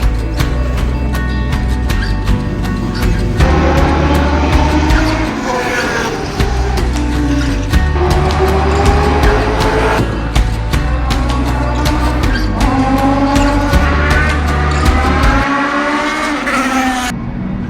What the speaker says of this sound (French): en regardant les véhicules passer